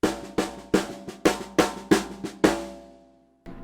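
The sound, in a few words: seven-stroke linear drum fill in a 4/4 measure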